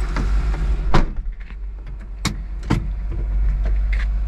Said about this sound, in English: All right, let's drive this Hijet real quick.